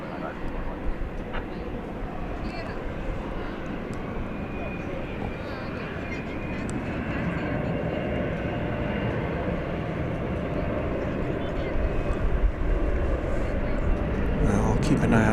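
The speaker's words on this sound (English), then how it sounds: "So wheels up for the Frontier flight." A Frontier airliner takes off at night at DFW Airport, its engine roar building steadily from a distance while a person talks over it.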